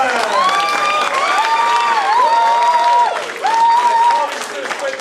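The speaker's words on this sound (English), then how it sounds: "Give them a big round of applause! Give them a cheer!" Applause and cheering for students at a martial arts belt ceremony, dense crowd clapping under a loud, sustained sung or shouted voice that carries over the noise throughout.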